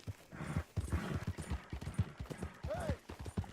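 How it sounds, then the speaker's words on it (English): Horse hooves clip-clop at a steady rhythmic trot in Red Dead Redemption 2, with a zebra-striped horse being ridden. The hoofbeats are moderately close, with a faint whinny-like tone partway through. "Let's ride this zebra horse home."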